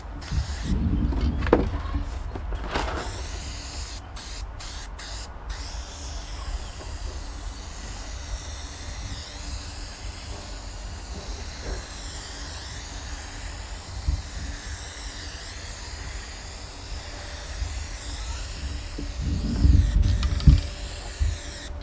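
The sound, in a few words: spraying glue onto carpet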